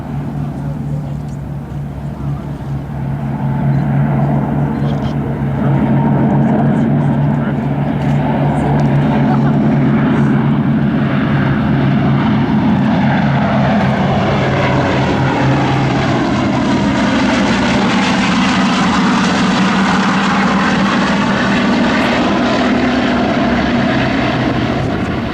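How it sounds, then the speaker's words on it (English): The B-29 Superfortress "Fifi" flies by in landing configuration at a World War II Weekend airshow, its piston propeller engines droning loudly as the bomber draws nearer, peaks and sweeps past. "You get a good chance to see this aircraft come by in the landing configuration, the world's only flying"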